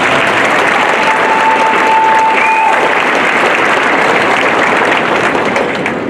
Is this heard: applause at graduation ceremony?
yes